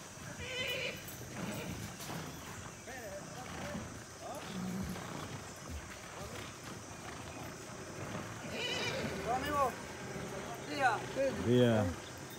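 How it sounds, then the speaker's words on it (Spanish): Horses swim and splash across the Tinto Negro river outdoors, with several neighs and snorts rising toward the end while people talk nearby. "Ahí van los caballos nadando"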